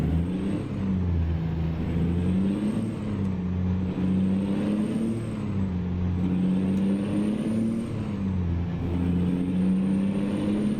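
A Peterbilt 359 truck idles in a video game, a steady low engine rumble with a faint high whine on top, droning evenly throughout with no voices.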